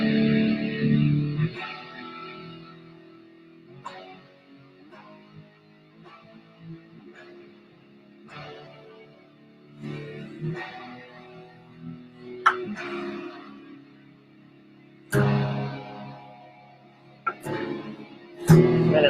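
A distorted electric guitar plays a bridge riff built on a power chord shape, with a sequence of picked chords and notes, some sharp accented hits, and effects-laden reverb.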